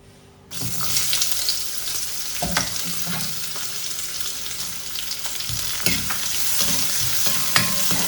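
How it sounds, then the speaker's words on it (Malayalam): Small onions cut into rings sauté in ghee in a pan over low heat, giving a steady close sizzle with scraping and stirring clinks throughout, no talk. "ഇനി അതിലേക്ക് നമ്മൾ ഈ ചെറിയ ഉള്ളി വട്ടത്തിൽ തന്നെ മുറിച്ച് വയ്ക്കണം"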